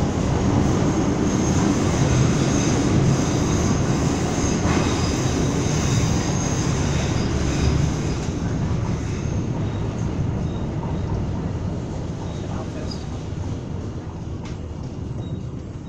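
A Tyne and Wear Metro train runs from Byker to Manors, heard from onboard as a continuous loud rumble and roar of wheels and motors that eases slightly toward the end, with faint rattles and squeaks and no talk.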